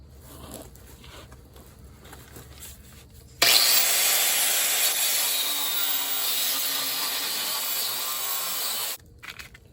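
A harsh, steady cutting noise through metal on a 1961 Willys Jeep CJ5 leaf spring starts abruptly, runs loud and continuous for several seconds, then stops suddenly.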